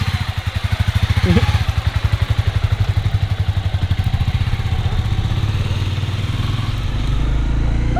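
A Grom motorcycle with a swapped engine runs and rides close by, its single-cylinder putter steady and loud with a slight rise near the end, no speech over it.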